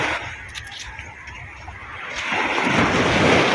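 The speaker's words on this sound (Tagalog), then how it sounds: "Laking alon." Big ocean waves after a night of heavy rain, rushing surf that builds to a loud broad wash near the end, with wind buffeting the microphone throughout.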